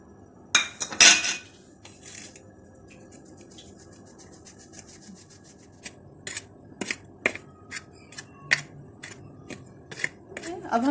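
Flour mixed with spices and cocoa powder is sifted through a sieve, making quiet, scattered rattling taps and soft scraping in irregular bursts. A voice talks over the sifting.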